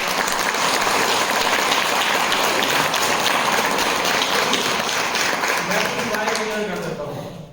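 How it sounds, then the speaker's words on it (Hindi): Attendees at an Ayurvedic product training session clap for themselves, a loud, dense burst of applause that holds steady and then fades, with a voice surfacing near the end. "तो अपनी सब अपने लिए ताली बजा ले"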